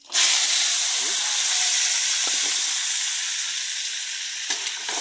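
Sliced bottle gourd dropped into hot oil with browned garlic and onion sets off a sudden loud sizzle that settles into a steady hiss, with faint stirring clinks near the pan.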